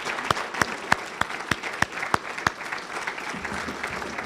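An audience at a community heroes celebration claps in a slow, fairly steady rhythm of distinct individual claps, about eight in a row, then trails off into room murmur.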